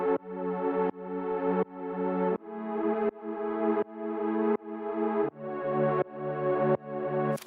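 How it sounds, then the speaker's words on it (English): Soft PWM synth pad run through an eight-slot effects rack and EQ for an ambient feel, playing about ten sustained chords in steady succession, each swelling up gradually before the next one starts, loud and clean with no voices. "And then with effects the pad sounds like this."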